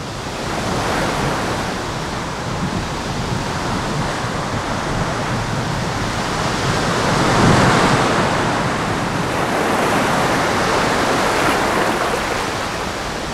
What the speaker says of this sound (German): Ja, das Meer klingt jeden Tag anders.